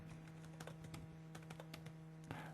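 Quiet typing on a computer keyboard, a series of light irregular key clicks in short bursts with a brief louder cluster near the end, close and faint against a low steady hum.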